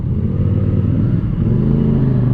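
A CF Moto 450 CLC motorcycle rides through traffic, its engine holding a steady low drone with a brief dip and shift in pitch midway, loud and close throughout.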